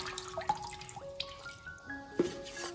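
Water trickles and drips into a kitchen sink as thawed chicken breast is rinsed, with soft irregular splashes and a few sharper drops close by, no talk.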